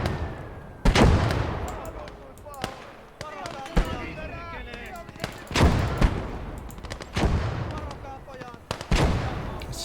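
Mortar and battle gunfire in a war video game: a series of sharp booming shots and blasts at irregular intervals, some loud and close, others lighter, with brief crackles between them.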